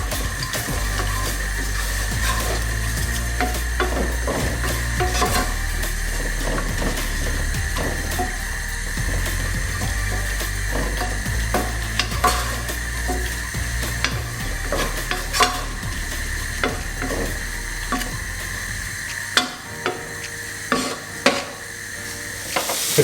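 Fennel sweats and softens in a pan for a Mediterranean fish soup, a steady sizzle with frequent scraping, clicking stirs of a utensil against the pan, close and continuous, with no voices.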